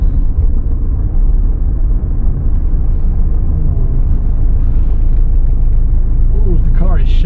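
A diesel car rolls in sixth gear at about 800 RPM with no throttle, its engine giving a loud, steady low rumble and shaking drone throughout, with a voice speaking over it.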